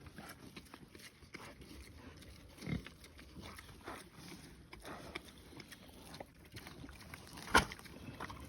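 Pigs being moved to a new paddock across a fence line, with short grunts and snorts over a constant outdoor background and a sharper squeal-like burst near the end.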